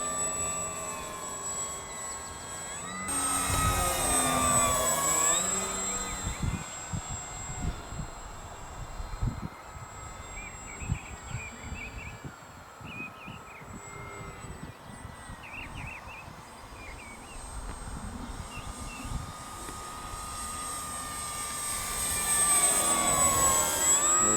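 A radio-controlled FMS PA-18 Super Cub model plane's engine drones steadily overhead for the whole stretch, its whine rising and falling slightly as it moves, with louder swells near the start and end.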